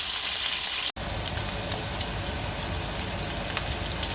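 Small steak searing in a hot pan, a loud, continuous sizzle and spatter close by with a brief break near the start, no voices.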